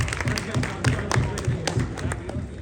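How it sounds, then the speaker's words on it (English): A crowd at a political rally applauds the volunteers, irregular clapping mixed with rhythmic low thumps like a drumbeat and voices in the background. "Just want to give a quick round of applause to all the volunteers."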